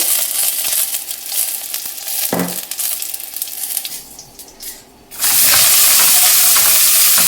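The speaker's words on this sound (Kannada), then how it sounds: "ನಾನಿಲ್ಲಿ ಒಂದು 10-12 ಹಸಿಮೆಣ್ಸಿನ್ಕಾಯನ್ನು ಸ್ವಲ್ಪ ಆಯಿಲ್ನನ್ನು ಹಾಕ್ಕೊಂತ ಫ್ರೈ ಮಾಡ್ಕೊತಾ ಇದ್ದೀನಿ" Green chillies, ten to twelve of them, frying in a little oil for radish chutney: a steady broadband sizzle and hiss that briefly dips, then returns louder and fuller, with occasional stirring scrapes.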